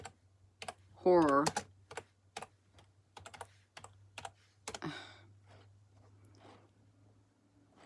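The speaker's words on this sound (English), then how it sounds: "Actually, I was typing it." Rapid bursts of clicking on a computer keyboard, close and crisp, with scattered keystrokes in between and brief speech in the middle.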